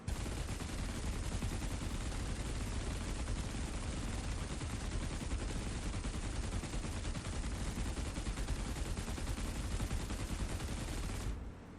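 A Spitfire LF Mk.IX's guns fire in a flight game, one long unbroken rattling burst lasting about eleven seconds, loud and dense throughout before cutting off abruptly.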